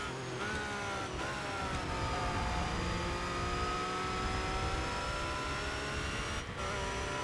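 Race cars in ToCA Race Driver 3 accelerate hard with a steady, loud engine whine that climbs in pitch, several engines layered together and rising through gears without any talk.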